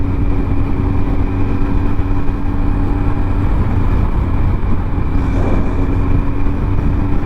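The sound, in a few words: Suzuki Hayabusa motorcycle engine running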